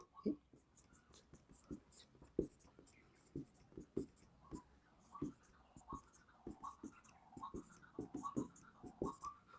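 Pen or chalk scratching out a glucose structure by hand in a chemistry lesson, steady strokes and taps close up, with soft breathy sounds between.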